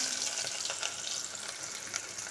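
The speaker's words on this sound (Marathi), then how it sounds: "त्यानंतर कांदा घातला मित्रांनो" Chopped onion drops into hot oil tempered with cinnamon, bay leaf, black cardamom and peppercorns for a crab curry, giving a steady, moderately loud frying sizzle that crackles evenly throughout.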